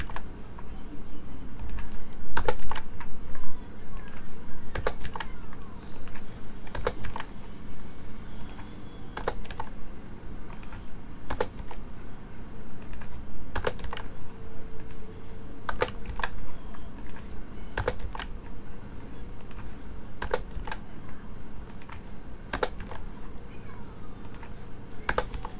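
Steady computer keyboard typing while code is entered into a PHP program, with rapid irregular key clicks throughout and occasional louder keystrokes over a low constant hum.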